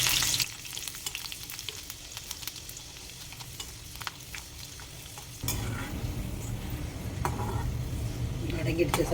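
Hot oil crackles and sizzles steadily, getting louder partway through, with occasional stirring noises.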